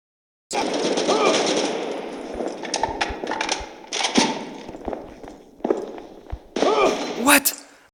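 Rapid automatic gunfire in the mobile shooter Modern Strike Online, loud bursts of shots with short pauses and a few single cracks, game effects filling the clip.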